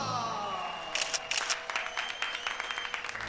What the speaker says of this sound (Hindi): अरे काम हुआ नहीं, ताली बजा दी।